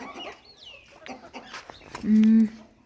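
Hens clucking on a poultry farm as they are let out of the coop in the morning, a few close, uneven clucks and calls with someone talking over them.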